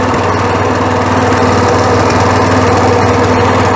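A Weima WM1100C-6 walk-behind tractor engine runs at raised revs, a loud, steady, close-up putter with a rapid, even beat and no pauses.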